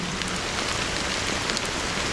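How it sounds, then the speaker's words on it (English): Rain falls steadily in Honkai: Star Rail, a dense, even patter of drops striking surfaces close by, continuous and moderately loud with no talk. "it's still raining."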